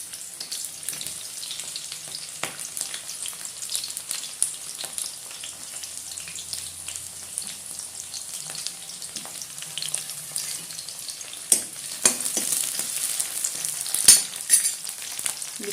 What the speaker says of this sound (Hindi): ये प्याज गोल्डन ब्राउन होने तक जैसे ही भूंजेगा